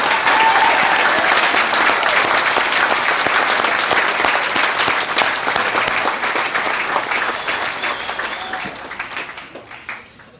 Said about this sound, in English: Can we have a round of applause for all these graduates?